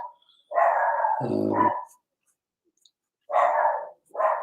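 A miniature schnauzer barks in loud, sharp bursts nearby: a couple of barks with a brief growly dip, then a pause of silence before two more barks, with no talking.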